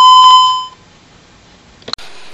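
A loud steady electronic tone from a Honeywell Vista 20P alarm panel sounds on arming and fades out, followed by a brief click and soft noise.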